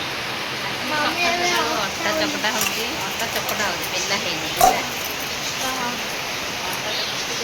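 Heavy rain pours steadily during the Snana Purnima festival in Odisha, a dense, constant hiss of downpour close around, while people talk over it and a brief louder thump lands midway.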